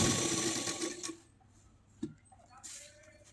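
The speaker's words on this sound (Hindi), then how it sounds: "और अब हम सिलाई करेंगे।" A sewing machine stitches a circular umbrella palazzo, its rapid whirring run loud at first then stopping, followed by quieter handling noises and a short clack, with someone speaking alongside.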